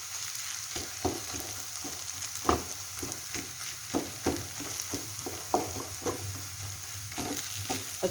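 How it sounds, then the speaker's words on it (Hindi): Semolina roasting in a pan for makhandi halwa, a soft background sizzle broken by a steady series of scraping stirs every half second or so, close and fairly quiet. "सूजी को हम बहुत ही अच्छी तरह भून रहे"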